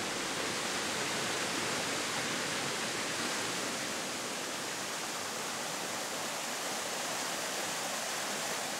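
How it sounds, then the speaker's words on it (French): Steady broadband rushing of the Omilinga river flowing through deep forest, a continuous even wash of water with no voices or breaks throughout. "au plus profond de la forêt coule la rivière Omilinga"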